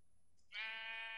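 A sheep in the Minecraft video game gives one short, clear bleat, close and fairly loud after a brief quiet moment.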